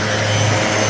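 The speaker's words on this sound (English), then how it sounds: "I'm going to start sanding as well" A random orbit sander whirs loudly and continuously while leveling a seam in solid surface material, a steady buzzing drone with a gritty rubbing texture.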